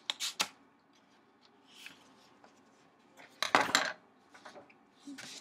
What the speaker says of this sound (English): I'm going to cut it so I have half a sheet of paper.